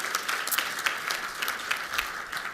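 Steady audience applause fills a keynote address hall at a school lunch event, dense and continuous clapping from many hands at moderate distance, with no voices over it.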